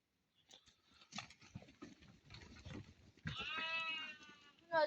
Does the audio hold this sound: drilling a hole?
no